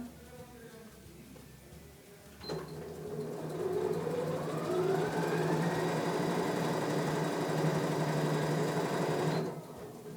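A sewing machine stitches a straight seam on fabric for a child's hairband, a steady whirring buzz that starts abruptly, runs for about seven seconds at moderate loudness, then stops, with no talk over it.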